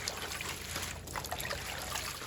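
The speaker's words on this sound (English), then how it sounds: "Fill that sink up, add your greens, and add some salt, and give them a rub." Water runs in a steady trickling stream into a sink being filled for washing turnip greens, close and continuous from start to finish.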